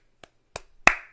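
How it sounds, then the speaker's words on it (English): Hands clap three times at uneven intervals, each a sharp, close slap, the last one the loudest, with no voices. "It's me clapping."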